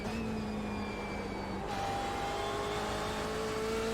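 A race car engine screams at high revs during a circuit race, its steady harmonic whine dropping briefly at a gear change then climbing again, loud and continuous with the car close.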